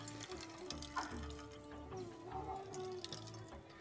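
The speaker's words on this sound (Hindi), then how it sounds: "तो देखिए फ्रेंड्स कितना पानी निकल रहा है।" Water trickling and dripping as grated cauliflower is squeezed by hand for gobhi paratha, a steady close wet splatter with a faint kitchen hum underneath.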